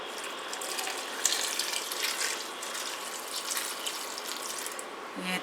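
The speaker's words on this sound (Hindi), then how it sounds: "ये इसमें थोड़ा सा पानी डालूंगी।" Water is poured into a pan of keema karela, a minced-meat and bitter-gourd dish, with a steady, soft splashing trickle that continues throughout, close and quiet with no talk.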